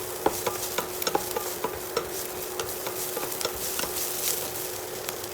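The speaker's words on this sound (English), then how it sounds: "Stir fry over medium heat until the onions become translucent and soft and give off a characteristic sweet aroma." Onions stir-frying in oil over medium heat, a soft continuous sizzle broken by light scattered taps and scrapes of a utensil in the pan, fairly quiet and close, with no talking.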